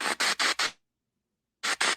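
A paranormal spirit box sweeps through radio channels, giving loud bursts of harsh white-noise static in quick pulses. The hiss drops to silence for nearly a second, then two more bursts follow, close and alone.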